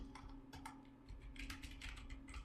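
Urdu text being typed on a computer keyboard using an Urdu phonetic layout, a steady run of quiet, close key clicks with uneven rhythm and brief pauses between bursts.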